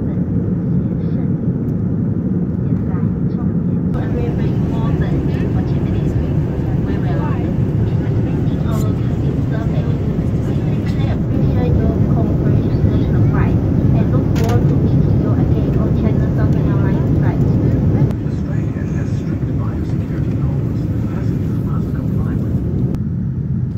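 Cabin noise inside a China Southern Boeing 787-9 descending into Melbourne: a continuous loud broadband roar and hiss that holds steady throughout, with faint clicks and a brief shift in tone near the end.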